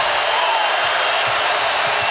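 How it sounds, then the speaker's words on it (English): A basketball arena crowd roars in a steady, dense wash of cheering and noise throughout, loud and continuous, as a men's college game unfolds. "Now listen to this crowd."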